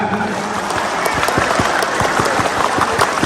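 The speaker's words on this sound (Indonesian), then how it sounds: "Sekali lagi, tepuk pramuka." A crowd performs the Indonesian scout clap (tepuk pramuka) at a political rally in Banten, clapping in a steady, rhythmic pattern, loud and close, with a scattered applause wash filling the gaps between the beats.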